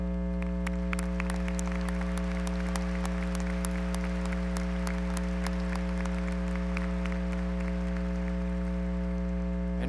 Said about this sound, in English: If they would all please stand and accept our applause for their service this morning.